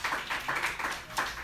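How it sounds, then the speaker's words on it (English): Clapping from a small crowd at a comedy show in a dive bar called Liquid Zoo, uneven bursts of hand claps that swell and dip in loose pulses, fairly close and without talk over it. "Let's have a big round of applause for you guys coming out tonight."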